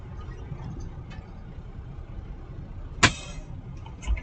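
A truck engine idles steadily at low pitch, a faint continuous rumble with a sharp brief click or knock partway through.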